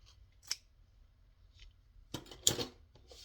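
Scissors cutting down paper for a grunge craft project, a few sharp close snips spaced apart, with a quick double cut near the end in an otherwise quiet room.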